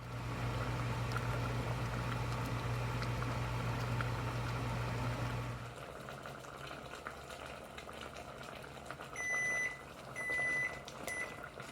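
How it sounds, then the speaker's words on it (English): Cabbage boils in a pot of water on a stovetop, making a steady, quiet bubbling hiss that drops to softer simmering noises partway through, with a few short electronic beeps near the end. "So our cabbage has been boiling for 2 minutes"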